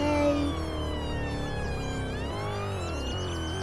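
A police-style wailing siren in a roleplay video game, heard for an ambulance, sweeps up and down steadily and loud close by over a low engine drone, with layered rising and falling tones.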